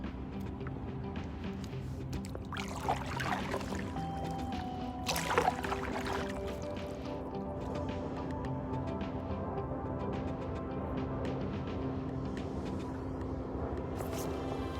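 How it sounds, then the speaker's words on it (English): Small boat being paddled on the Salish Sea, quiet water lapping with a couple of distinct splashy paddle strokes early on, then calmer gurgling and a faint low hum, all fairly soft. "So we'll paddle a little bit."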